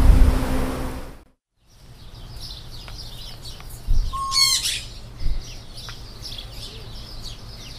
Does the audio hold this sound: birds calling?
yes